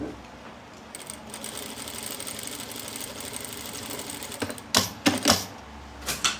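A sewing machine stitches closed a milk carton box for a craft basket, humming steadily at close range before breaking into a few sharp, louder bursts of stitching near the end.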